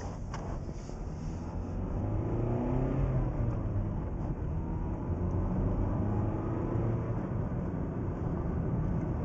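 A Dacia Logan engine revs up and pulls steadily, its droning hum rising and holding strong from inside the car, with no talking.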